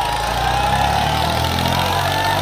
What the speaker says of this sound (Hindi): बाकी ट्रैक्टर बहुत बढ़िया चल रहा